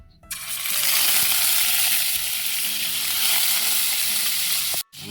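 Loud, steady sizzle of marinated chicken frying in hot oil in a pan beside a pot of mung beans, starting abruptly, hissing continuously and close, then cutting off briefly near the end.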